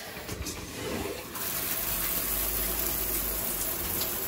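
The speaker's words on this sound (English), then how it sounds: "I turned the shower on, and it takes a while until the hot water starts coming out" Water running steadily from a shower tap inside an RV, a continuous hiss of flow that begins softly and grows louder and fuller after a moment, holding steady close by with no talking.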